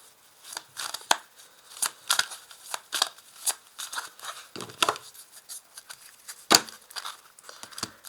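Oracle cards being shuffled by hand during a tarot-style reading, a series of crisp papery riffles and slaps in an uneven rhythm, close and fairly loud with no talking.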